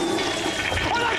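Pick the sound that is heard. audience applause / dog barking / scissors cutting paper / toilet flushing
toilet flushing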